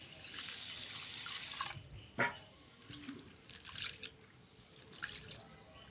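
Flattened rice (poha) being washed in water, with soft sloshing, swishing and dripping, faint and close, plus a sharper splash near the start.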